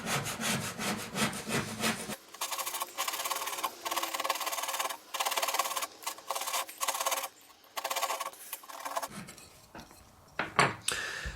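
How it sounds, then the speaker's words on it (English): A scraper is drawn back and forth over an N gauge platform ramp, rapid rasping strokes in bursts, close and crisp with short pauses between runs. "I'm going to grab this scraper and literally just going to sort of scrape layers off until it's all smooth really"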